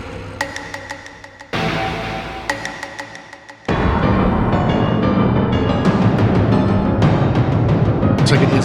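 A Yamaha Montage M8X synthesizer plays a cinematic trailer performance: sharp ticking hits over a low drone, then a sudden loud swell of dense, full-range orchestral sound that holds to the end, with no talking.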